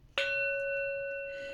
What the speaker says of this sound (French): On finit bien entendu par le petit gong de fin qui nettoie toutes les énergies.